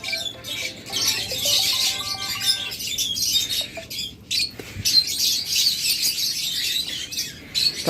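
Caged pet birds in a bird shop, including mynas, parakeets, lovebirds, budgerigars and cockatiels, keep up a dense, continuous chorus of overlapping chirps, tweets and squawks. The calls are near and loud and there is no talking.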